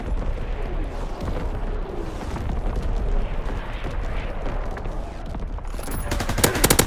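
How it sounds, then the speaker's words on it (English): Incoming enemy artillery and gunfire in a WWII shooter game, a dense continuous barrage of rapid shots and booming blasts that stays loud throughout and builds at the end. "Incoming enemy artillery."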